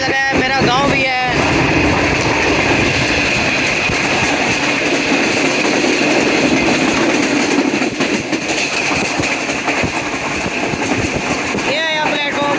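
Shalimar Express train rolling past Safdarabad station, wheels clattering in a steady rhythmic clickety-clack under a continuous loud rumble, with brief squeals at the start and end; a voice is heard talking over it.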